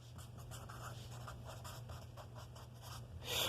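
Pen or marker scratches steadily across a board or paper while math is written out, a faint continuous scribble with short repeated strokes and a low hum beneath.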